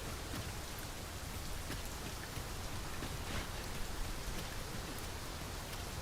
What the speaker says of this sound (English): Easy to get lost in this mist and rain.